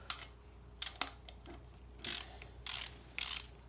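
A ratchet wrench backing out a 12 mm bolt on an automotive neutral safety switch, a few sharp metallic clicks followed by three short buzzing ratchet spins, close and moderately loud with no talk.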